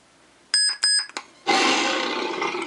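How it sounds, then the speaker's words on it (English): A Force Relics Yun custom Star Wars lightsaber running PRIZM v4.0 gives a few short high electronic beeps as the aux button is held, followed by a loud sustained hum as the blade sound kicks in. "So you hold the aux button, once you hear the beep, you press the beep"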